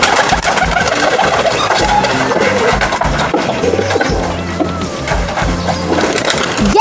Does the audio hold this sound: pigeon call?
yes